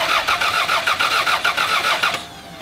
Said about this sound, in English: we're gonna look at the rotor while we crank the engine, see if it's spinning